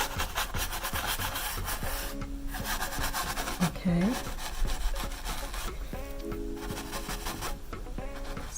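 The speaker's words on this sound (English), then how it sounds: "Use a clearly, completely dry and clean brush to actually get rid of all the excess glitters" A completely dry, clean brush sweeps excess glitter off a canvas in a close, scratchy, raspy rubbing that keeps going in repeated strokes, with a brief spoken word partway through.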